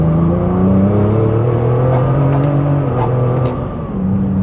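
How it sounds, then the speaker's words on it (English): Turbocharged BMW E36 with a swapped ZF 8HP automatic, engine droning loud and steady under hard acceleration as the automatic snaps through quick, aggressive upshifts, with the engine pitch dropping briefly at each change. "Now this is aggressive shifting."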